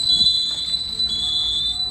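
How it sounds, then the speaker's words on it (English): Store security alarm sounding during a robbery, a steady high electronic tone held continuously throughout over low background noise, with no one speaking. "Listen as the alarms are going off inside the store."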